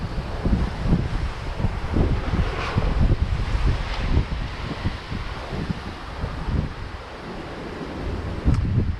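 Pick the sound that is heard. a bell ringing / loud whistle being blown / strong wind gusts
strong wind gusts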